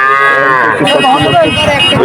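A young calf moos loudly and very near at the Betaga cattle market, a strained, wavering bleat-like call stretching across the whole moment with market noise faint underneath.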